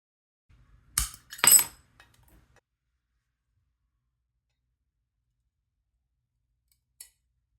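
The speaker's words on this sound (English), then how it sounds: "With the right pressure and a confident cut, the glass will break along the line." Stained glass is scored and snapped along the score line: two sharp cracking breaks close together, a few small clinks, then a long quiet stretch and one faint tick, with no talking.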